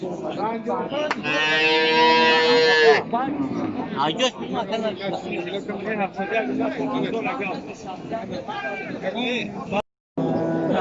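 A close cow bellows one long, loud moo at the Bokhtar livestock market where cattle and goats are traded, followed by busy crowd chatter and people talking.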